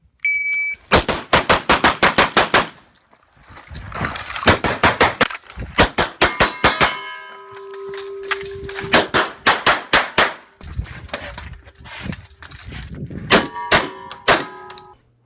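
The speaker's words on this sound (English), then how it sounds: "You cut to a Keanu Reeves shooting video, and then you see how he's like pop pop pop pop pop pop tat tat tat tat tat tat." Rapid gunfire from a Keanu Reeves shooting scene: loud, sharp bursts of quick-fire shots in clusters separated by short pauses, with metallic clangs and ringing tones between the volleys.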